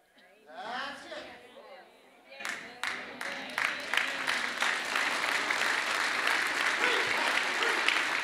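Churchgoers begin applauding after a preacher's voice, scattered claps quickly building into sustained, fairly distant congregational applause with some chatter underneath.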